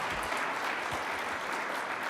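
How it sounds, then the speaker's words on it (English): Audience applause at a 1 Million Cups startup pitch event in Kansas City, a steady, dense wash of many hands clapping close by that holds at an even level for about two seconds without any speech. "Let's give him a round of applause."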